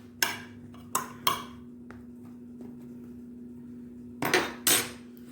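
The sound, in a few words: spoon scraping potatoes in a roasting tray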